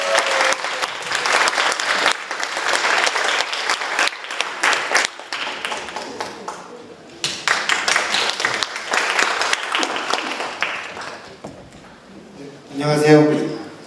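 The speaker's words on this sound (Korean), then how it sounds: "큰 박수로 모시겠습니다" Audience at a youth seminar on Park Chung-hee applauds a student presenter from Hanyang University, steady dense clapping for about twelve seconds with voices mixed in, then tapering as a speaker begins.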